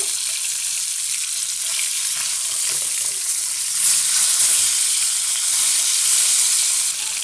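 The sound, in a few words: fish frying in a pan being turned over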